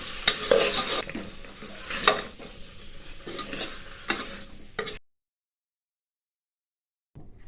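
Green field beans and potatoes with salt stirred in a pressure cooker, a spoon scraping and clanking against the metal with a light sizzle for about five seconds, then silence.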